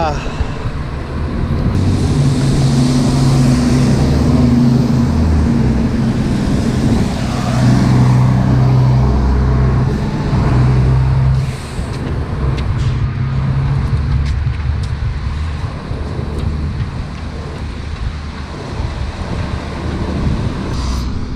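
Buses and cars pass along a busy rush-hour street in Canada, a continuous loud roadway rumble with engines swelling and fading, mixed with wind buffeting the microphone.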